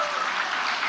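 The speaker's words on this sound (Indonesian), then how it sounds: "tepuk tangan dong ibu-ibu" An audience at an Indonesian political gathering bursts into a brief, dense wash of applause that fills the whole moment with steady clapping.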